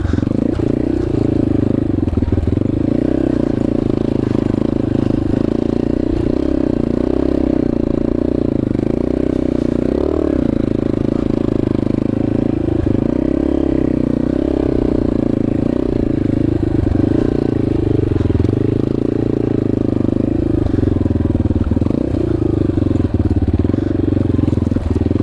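A Yamaha XT250 enduro motorcycle rides off-road in Moab, Utah, its engine a loud, continuous close drone in second gear with shifting pitch, plus clattering and scraping over rough ground.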